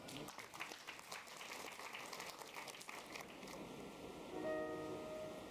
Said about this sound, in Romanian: Să o aplaudăm!